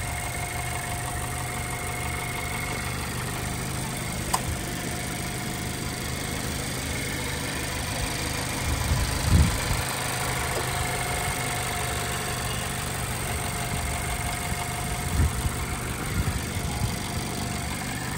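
A 2016 Mazda MX-5 Miata engine idles steadily at close range, a continuous low rumble with slight vibration and a couple of brief bumps in level.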